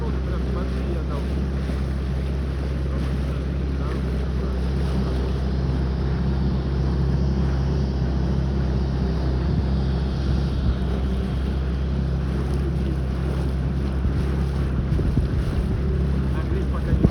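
A Sea Pro outboard motor on a Skat boat runs at low revs on a river, a steady low drone under wind buffeting the microphone.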